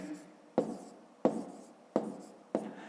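Pen strokes writing numbers by hand on paper during a fifth-grade arithmetic exercise: four sharp, evenly spaced scratchy taps with short trailing rasps, close and fairly loud, with no talking.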